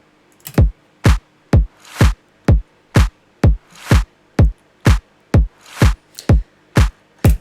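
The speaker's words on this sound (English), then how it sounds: "I've added a kick and clap together with open hi-hats" A programmed drum beat pairs a kick with a clap, with open hi-hats, in a steady, evenly spaced pattern of punchy hits, loud and close with nothing else playing.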